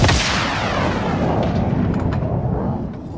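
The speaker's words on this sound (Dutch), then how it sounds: "Enemy precision airstrike." Precision airstrike explosions in Call of Duty Warzone hit in a loud, booming roar that opens sharply, then rolls on as a dense rumble with a few crackling bursts before easing off.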